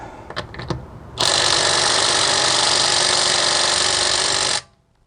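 A Makita 18V cordless impact wrench fires up after a few light clanks, hammering in one loud, steady burst of about three and a half seconds close by before cutting off abruptly.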